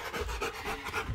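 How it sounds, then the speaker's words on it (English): A dog pants hard and fast after playing fetch with a ball, rapid close breaths in a short rhythmic burst with no talking. "You're breathing as hard as Diesel."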